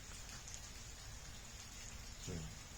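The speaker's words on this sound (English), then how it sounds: "Rain still doesn't stop." Steady rain falls in a soft, even hiss that holds without pause, faint and unbroken, with a brief low knock near the end.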